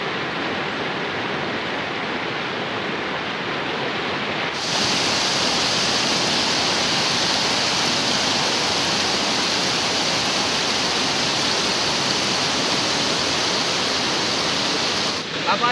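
The Pance River rushes steadily in Farallones de Cali National Park, a dense, continuous broadband roar of flowing water heard close, growing a little louder partway through.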